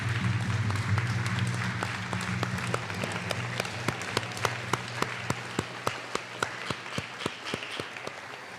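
Graduates at a Native education celebration stand and applaud the people behind them: dense clapping that thins over time into a few distinct, regular loud claps near the microphone, with a low voice or hum early on.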